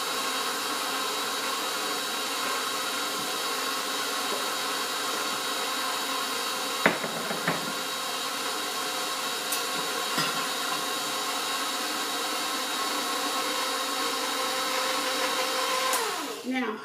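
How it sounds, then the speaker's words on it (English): Electric stand mixer beating king cake dough with eggs, yolks and flour: a steady, loud motor whir with a constant hum that runs unbroken throughout, with a couple of faint clinks partway through. "I'm going to turn the mixer on, it's kind of noisy."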